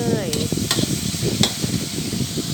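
Pork stir-fried in a hot pan sizzles and scrapes under repeated stirring strokes, a close, busy crackle with a few sharp metallic knocks of the utensil against the pan.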